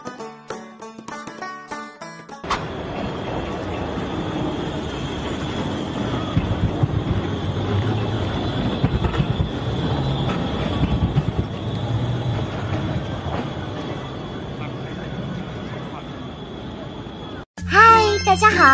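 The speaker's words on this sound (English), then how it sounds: "有轨电车 Tram。" A toy tram rumbles steadily along with a constant low drone and a faint high whine, framed by brief bursts of music at the start and end.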